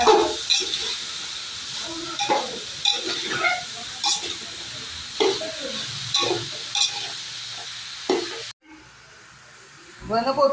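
Vegetable curry, a peas and cauliflower gravy, being stirred and fried in a pan: a steady hiss and sizzle with repeated scraping stir strokes. The sound cuts briefly near the end and then resumes, and a voice talks under it.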